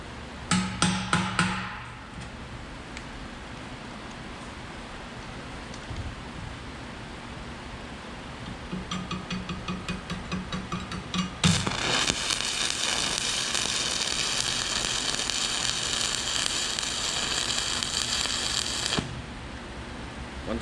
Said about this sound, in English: we're just going to put 1 weld right in the center, about 1 inch long